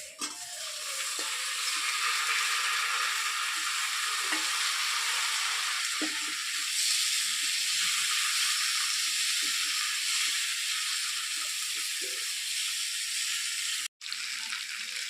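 Pumpkin pieces fry and sizzle in a pan with ginger spice paste for a vegetarian pumpkin chhakka, giving a steady close hiss broken by stirring scrapes and clatter, with a short break near the end and no talking.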